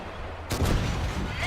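A T 34/100 tank gun fires once in the World of Tanks video game, a sudden loud broadband blast that rises out of a steady rumbling battle ambience and rolls on with a lingering boom.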